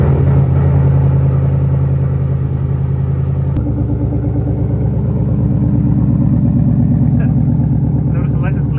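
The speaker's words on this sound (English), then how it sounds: "I'm gonna start the car." A car fires up after a ported intake manifold install, cranking briefly then settling into a loud, steady, close engine rumble with a few faint clicks and voices in the background.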